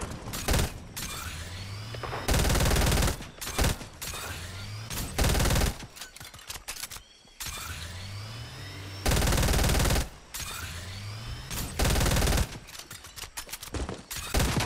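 Fortnite gunfire comes in several loud, sharp automatic bursts separated by quieter stretches of game sound, echoing and close.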